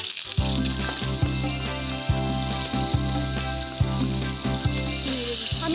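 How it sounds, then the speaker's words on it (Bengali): Potatoes frying with softened tomato in a pan, a steady close sizzle broken by regular soft clicks of stirring; no talk. "এবার আলুটা দিয়ে দিই, ভাজা ভাজা হয়ে যাবে।"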